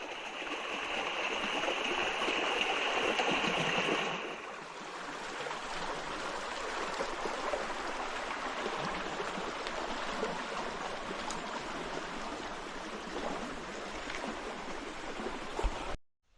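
A river flowing along a natural stretch with trees, its steady broadband rush of water continuous and fairly close; a brighter high hiss sits on top for the first few seconds before settling into an even, uninterrupted flow.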